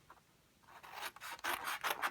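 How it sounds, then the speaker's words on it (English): Scissors cutting through craft card toward a scoring line for a chocolate orange box, heard as a series of close, dry rasping snips that grow louder and more rhythmic toward the end, with no talking. "So we need to cut into these to the scoring line."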